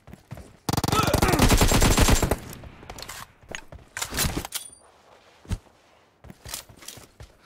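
Automatic gunfire in PUBG: a dense, loud burst of rapid shots lasting over a second, followed by scattered single shots and clicks, with brief gaps between.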